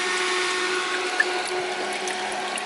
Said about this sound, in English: water pump's going.